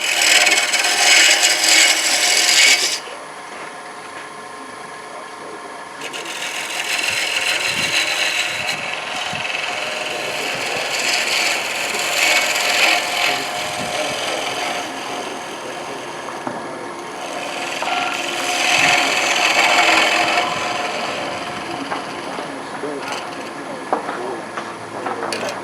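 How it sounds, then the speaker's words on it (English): A gouge cuts wood spinning on a lathe, giving a steady scraping, hissing rasp that swells in loud bright stretches at the start, around the middle and near the end, with quieter rubbing between. "I'm going to switch over to a gouge."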